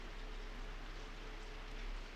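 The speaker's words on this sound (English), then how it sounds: "The rain had let up since this morning, though it was still coming down." Light rain falling in the video game Corpse Party: Book of Shadows, a soft, even, continuous patter with no voices.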